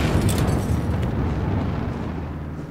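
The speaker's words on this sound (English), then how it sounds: "With the state of war declared, we can now drop a nuclear bomb on California" Massive low rumbling nuclear bomb explosion in Hearts of Iron IV, a loud sustained boom that rolls on and slowly fades, heard alone without voices.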